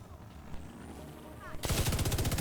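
Rapid automatic gunfire erupts in The Division 2 while shooting an enemy, a dense rattling burst starting abruptly after a quieter stretch of game ambience, loud and continuous to the end.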